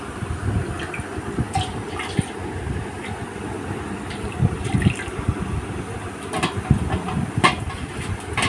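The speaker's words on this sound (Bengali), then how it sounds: "আমার গোপাল সোনারা স্নান করছে" Water poured over a small Gopal idol during a devotional bathing ritual, a steady rushing splash with low rumbling texture running throughout, fairly close and continuous.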